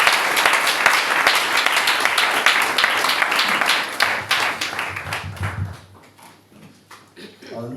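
A church congregation applauds together in a dense, steady wash of clapping that thins and fades toward the end, with voices mixed in.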